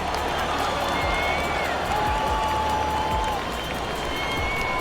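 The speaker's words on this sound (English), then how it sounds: "This home crowd is elated about what they've seen so far." A home crowd in NBA 2K24 cheers and applauds in a steady, dense roar that fills the whole stretch at moderate volume, with faint whistle-like tones drifting through it.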